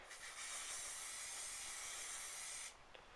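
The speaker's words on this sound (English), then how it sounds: "So I just use some hairspray on there, it locks in the colour." Hairspray aerosol misted over a painted retaining-wall surface as a colour-locking lacquer, one continuous loud hissing spray of about two and a half seconds that cuts off sharply, followed by a faint quiet tail.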